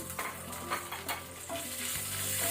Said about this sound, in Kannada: ಇದನ್ನು ಲೋ ಫ್ಲೇಮಲ್ಲಿ ಸ್ವಲ್ಪ ಇದರ ರಾ ಸ್ಮೆಲ್ ಹೋಗೋ ತನಕ ಫ್ರೈ ಮಾಡ್ಕೊಳ್ಳಿ